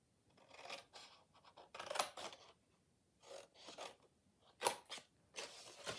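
Scissors snip paper in a quiet room, a faint sequence of short, crisp cuts and rustles spaced irregularly, close and soft with no talk.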